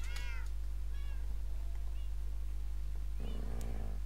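A Minecraft cat lets out a couple of short meows at the start, then a fainter mew or two, over a constant low drone with a brief rougher sound near the end.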